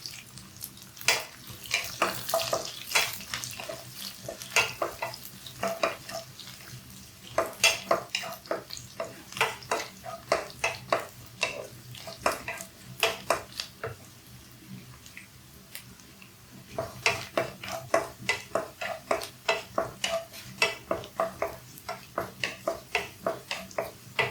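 Garlic frying in oil in a pan for a mixed dates pickle, with a steady sizzle broken by rapid, rhythmic scraping and stirring strokes that come in bursts, close and fairly loud throughout.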